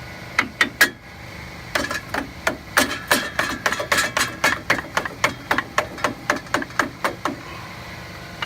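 A hammer bangs on a metal GM 4x4 truck front wheel hub again and again: a few quick strikes, a short pause, then a long, steady run of sharp, ringing blows.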